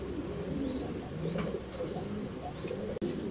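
Male fancy pigeons at a farm loft coo repeatedly in soft, low, rolling calls, several birds overlapping close by against steady background noise.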